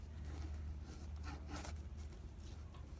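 Wire cutters snipping and handling thin craft wire while making dragonfly embellishments, heard as a faint, close scraping and rubbing over a steady low hum, with no talk.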